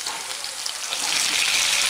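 Boiled bitter gourd pieces, seasoned with salt and turmeric, fry in hot oil with a steady, close, rain-like hiss of sizzling that swells slightly toward the end.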